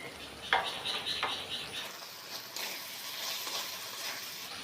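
Okra stirred with fried onions in a pan, with clinking spatula scrapes against the metal early on and a steady frying sizzle throughout, close and with no talking.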